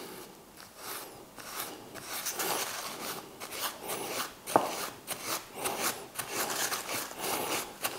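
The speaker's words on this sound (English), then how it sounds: "I'm literally just going to soak it and then wipe it gently across" Kitchen roll soaked in brake cleaner is rubbed back and forth across a surface on a Land Rover Defender, giving close, rhythmic papery swishes and scrapes that rise and fall steadily for several seconds without speech.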